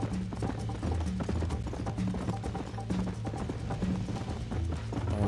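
Horse hooves gallop at a steady, rapid rhythm in Red Dead Redemption, a continuous close clip-clop of repeated beats with no speech over it.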